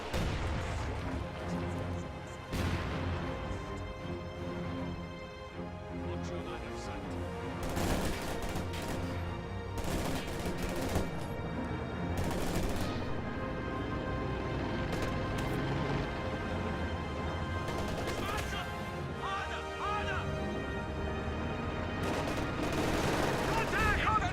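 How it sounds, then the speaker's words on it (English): Mortar shells land in a real-time strategy game, with repeated explosions and crackling gunfire packed into a constant battle din that runs throughout under a busy mix of game sounds. "that mortar has just been tearing him to shreds all game long"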